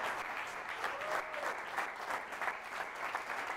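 A church congregation at a men's convention claps together in a steady, dense wash of applause that holds evenly throughout, fairly close and with no voices over it.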